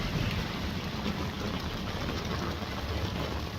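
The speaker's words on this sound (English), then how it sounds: "The rain is incredibly heavy." Heavy rain pours in a dense, steady roar, loud and unbroken throughout, with a low rumbling undertone.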